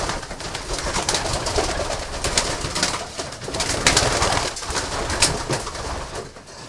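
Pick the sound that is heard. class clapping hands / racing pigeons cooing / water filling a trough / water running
racing pigeons cooing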